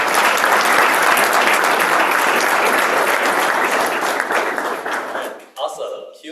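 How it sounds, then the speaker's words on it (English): Audience at a New York tech career event bursts into loud, sustained applause that fills the clip, then thins out and fades near the end. "Can we get a round of applause as well?"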